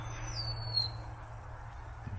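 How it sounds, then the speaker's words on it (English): A single bird calling from a bush just overhead gives a thin, high descending whistle outdoors over a low steady hum, faint and close by, with no talking. "You got birds out here carrying on."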